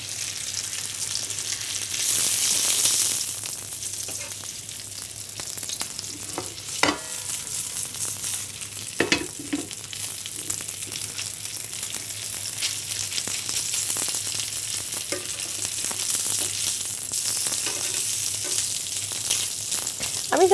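Chicken breast fries in a pan with a continuous, moderately loud sizzle, broken by a few sharp clicks and scrapes of stirring, with no voices.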